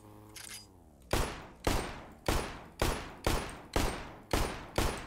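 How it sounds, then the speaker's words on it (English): Nine-millimeter gunfire aimed at police in the Roblox game Anomic: eight sharp, loud shots fire at an even, steady rhythm, each with a short decaying tail, after a brief stretch of game background. "Do I just shoot at the cops because I'm bored and there's nothing else to do?"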